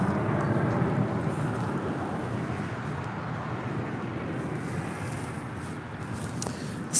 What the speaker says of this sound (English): We do have that Coletta Air 747-400 is our next arrival here on the south side